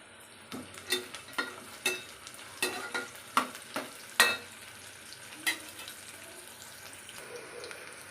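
Cashews frying in hot oil with a soft sizzle, broken by a series of sharp scraping clicks as they are stirred, then settling to a quieter hiss.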